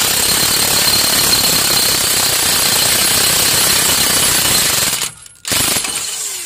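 An impact-type power tool with an 18mm socket hammers loudly and continuously on long rear end bolts of a Ford Explorer, running steady for about five seconds before a brief cutoff and a short restart.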